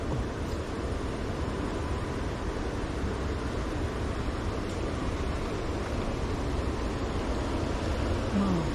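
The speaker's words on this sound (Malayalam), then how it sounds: "അവിടെ ഇങ്ങനെ കാണാം അല്ലേ വെള്ളം വീഴുന്നത്" Motherland Waterfall at Cheroor in Thrissur, heard as a steady, dense roar of falling water that stays even and unbroken throughout, fairly close.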